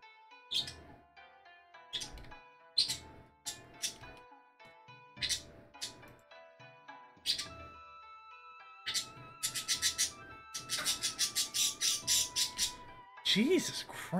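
Birds in the video game Mount and Blade give repeated sharp squawks and chirps, starting sparse and then coming in a quicker run of calls, while someone talks over the game.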